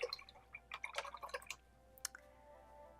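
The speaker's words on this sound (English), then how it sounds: "So I'm going to wash my brush." A paintbrush being rinsed in a water container during acrylic landscape painting, giving soft, faint clicks, taps and small splashy drips in a quiet room.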